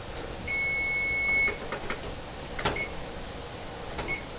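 A kitchen timer sounds a sustained electronic beep of about a second, followed by short single chirps and a few clunks and knocks from kitchen handling around it.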